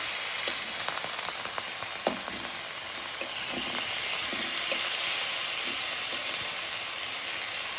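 Tomatoes fry lightly in an oiled wok on a gas stove, a close, continuous sizzle broken by scattered clicks and scrapes of stirring throughout.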